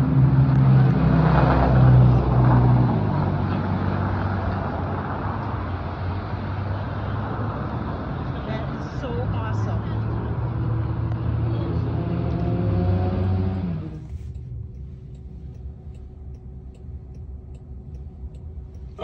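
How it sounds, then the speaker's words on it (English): Interior of a self-driving Uber car on the road in Phoenix: a steady hum of road and motor noise with a soft ticking, which fades sharply near the end to a quiet cabin with a faint constant tone. "I'm riding in an autonomous Uber in Phoenix."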